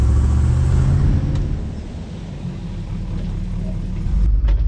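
A 1964 car drives down a road during a braking test, a loud close engine and road rumble that eases as it slows, then swells again near the end.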